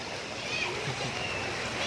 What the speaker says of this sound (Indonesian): alirannya cukup, waduh, cukup deras ini